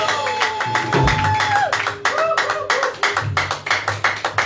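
A church congregation clapping in acclamation of the Lord, a loud ragged burst of hand claps close by with a sustained tone and some voices underneath.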